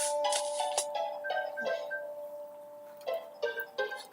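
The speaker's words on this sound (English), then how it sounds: "Your phone's ringing." A phone ringtone plays a repeating melodic chime pattern, moderately loud, in short bursts with brief pauses between phrases.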